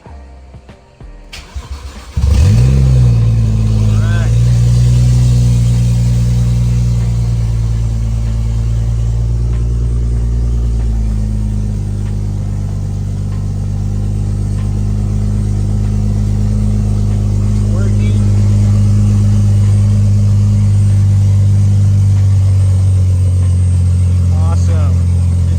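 A BMW E46 fitted with a swapped N55 engine cranks briefly, catches and settles into a steady, loud, close running drone that dips slightly midway, while people talk nearby.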